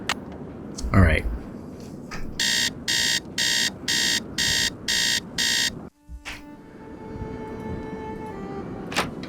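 An alarm clock rings in a Nancy Drew adventure game, sounding a run of seven evenly spaced bright, piercing buzzes, loud and close, before it cuts out and quieter game ambience resumes.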